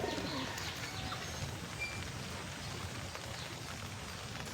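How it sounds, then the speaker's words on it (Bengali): Rajshahi giribaz pigeons coo softly in a loft, low murmuring calls with occasional faint chirps over a steady background hiss, fairly quiet and without speech. "চলো, তোমাদেরকে এখন কবুতর দেখাবো।"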